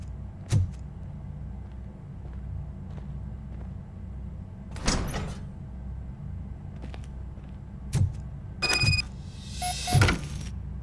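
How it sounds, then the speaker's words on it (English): A door opening in the game Robocop: Rogue City, with a few mechanical clunks and sliding, whirring bursts spread across the stretch over a steady low ambient hum, fairly quiet and without talk. "Now let me get that door open for you."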